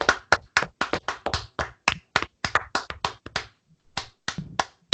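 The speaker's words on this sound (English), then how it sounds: "Let's just get a round of applause for A24 real quick." A single person claps about twenty times in quick succession, each crisp and close, with a short pause before the last few claps.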